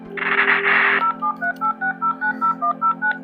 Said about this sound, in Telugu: సో కాల్ కనెక్ట్ అవుతుంది. సో రింగ్ అవుతుంది.